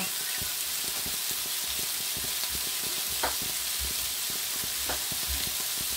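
Knacki sausages sizzle steadily in a frying pan, with a constant crackling hiss broken by occasional stirring scrapes.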